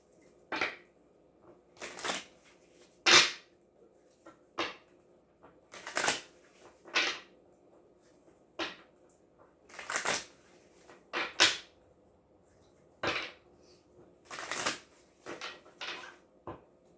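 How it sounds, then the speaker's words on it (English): Tarot cards are shuffled in separate brisk riffling bursts, about a dozen over the span, close and crisp with quiet pauses and a faint hum between. "And then I'm going to shuffle them all."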